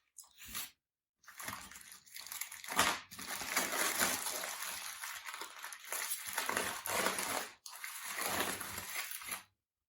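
Rested smoked Boston butt pork being unwrapped nearby: rustling, crinkling foil or paper handled in bursts with brief pauses, fairly faint.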